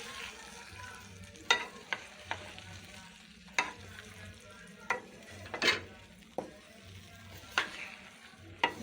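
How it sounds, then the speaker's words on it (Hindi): Masala being stirred into boiled dal chana in a hot pan, with a continuous low sizzle punctuated by repeated spoon scrapes and taps at an uneven rhythm. "अब इसमें मसाला अच्छी तरह से दाल में मिक्स कर लेंगे।"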